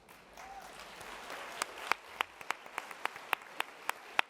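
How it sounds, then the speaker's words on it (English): Luncheon audience applause, a fairly small, moderately distant clapping that starts as a soft patter and firms into distinct individual claps near the microphone. "You already applauded for them"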